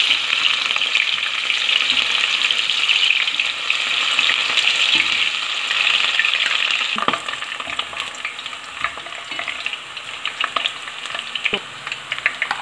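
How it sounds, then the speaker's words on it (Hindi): Onions browning in a hot pan sizzle loudly, a steady crackling hiss that eases off as they are stirred, with occasional scraping clicks. "अब मैं इसमें डाल रही हूँ जो प्याज को अब हम ब्राउन कर लेते हैं।"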